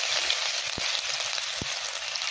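Crushed ginger and garlic hit hot oil already crackling with mustard and fenugreek seeds, making a close, dense sizzle with a couple of sharp pops, and no one speaking.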